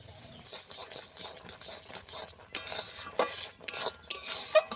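Semolina being stirred continuously into a stiff dough in a pot, a steady run of scraping, clinking spoon-on-metal strokes, louder and sharper toward the end, with no voices.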